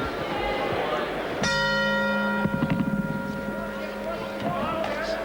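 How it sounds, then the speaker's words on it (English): A boxing ring bell clangs once to start round two of a light heavyweight title fight, a bright ringing tone that decays over a few seconds amid crowd noise. "The bell just sounds and round two is underway"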